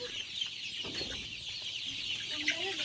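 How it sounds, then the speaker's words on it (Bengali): Chickens cluck repeatedly in a coop while a bird is being caught, with several overlapping calls and a few rising squawks toward the end over steady background noise. "এই মুরগিটা বড় আছে, বড় আছে এই মুরগিটা"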